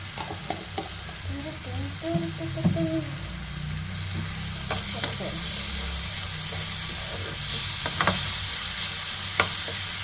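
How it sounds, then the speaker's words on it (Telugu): Mushroom curry being stirred and fried with spices in a pan, a steady sizzle with a spoon scraping now and then, close up, with brief speech early on. "మొత్తం కలిపిస్తున్నాం ఇలాగా ఎక్కువ స్పైసెస్ వేస్తాము"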